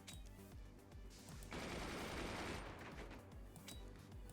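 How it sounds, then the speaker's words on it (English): Rapid barrage of bolts fired at an enemy fort in the strategy game Forts, a dense crackle of overlapping shots that swells into a loud sustained burst mid-clip before settling back into scattered firing. "I've got all of them tied together so I can shoot a huge barrage of bolts towards the enemy"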